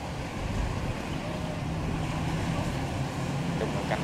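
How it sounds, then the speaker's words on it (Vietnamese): A two-cabin river barge moving slowly upstream gives a steady low engine drone with water wash and wind noise, continuous throughout at moderate level and without speech. "Một chiếc xà lan hai cabin đang từ từ lên các bạn ơi."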